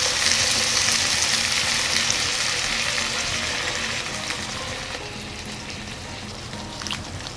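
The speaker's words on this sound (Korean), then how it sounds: "저는 이제 다시마 물을 넣어줄 거예요." Kelp water is poured into a pan of sautéing dried eggplant, setting off a loud sizzle and frying hiss that gradually fades as the pan settles, with no talk over it.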